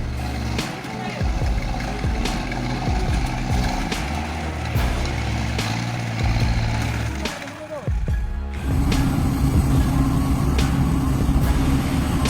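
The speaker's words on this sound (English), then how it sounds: "The dull roar of the engine tore through the silence of the dirt road." A large off-road truck engine roars on a dirt road, a loud, close, continuous rumble that dips briefly and then surges louder, with a voice talking over it.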